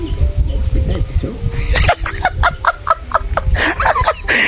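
Chickens cluck in short repeated bursts close by, while people talk over them in Filipino.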